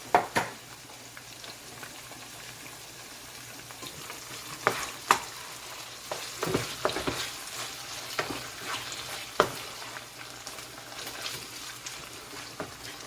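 Okra sizzles in a frying pan of saltfish and cooked provisions, with a steady fry hiss broken by sharp clicks and scrapes of stirring, close and moderately quiet, no talk.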